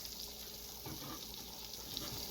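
Garlic sizzling in melted butter with white pepper, a steady close frying hiss running without pause and no one speaking.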